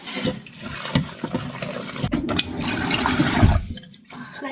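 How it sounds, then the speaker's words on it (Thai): Water sloshes and pours steadily out of a cooking pot for several seconds, a broad splashing rush with a brief dip near the end, close by. "เทน้ำออก"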